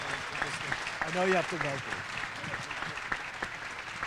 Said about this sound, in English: So I want you to clap for him again